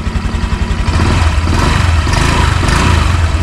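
A Honda Click 125 scooter engine idles with a rapid low putter, then revs up briefly into a fuller, rougher roar, heard close and loud without talk.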